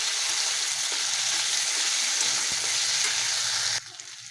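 Ginger, garlic and onion paste frying in hot oil while being stirred, a loud continuous sizzle with scraping stir strokes that cuts off abruptly near the end, leaving a quieter hiss.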